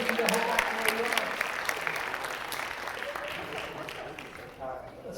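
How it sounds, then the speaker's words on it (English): An audience at a high school stage hypnosis show applauds volunteers, with dense, sustained clapping that gradually tapers off over a few seconds. "Give them a big round of applause."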